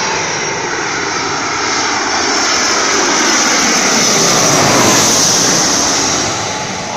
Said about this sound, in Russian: вот начинает самолет перебивать шум волны.